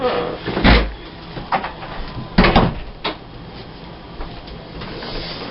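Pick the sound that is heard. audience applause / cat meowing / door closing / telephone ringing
door closing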